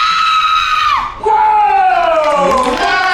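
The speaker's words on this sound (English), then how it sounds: "How would you scream?" Several people scream in sustained high, wavering voices as a mock Psycho-style shower scene plays at the Universal Studios Hollywood special effects show, with the crowd noise rising loud after a brief dip.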